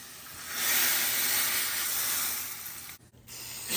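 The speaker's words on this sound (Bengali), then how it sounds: "বাগার দিয়ে দিচ্ছি।" Hot tempering oil with dried chili powder hits cooked dal in a sudden loud hiss that swells, holds for a couple of seconds and then fades, with no voices over it.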